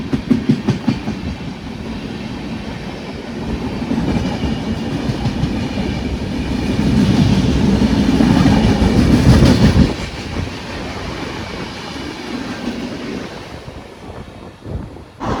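Thrissur-Kannur Express train rolling slowly past West Hill station, recorded from inside a general seating coach built in 2003, with a continuous rumble, faint rail clatter and wind noise, loud and close with no talk.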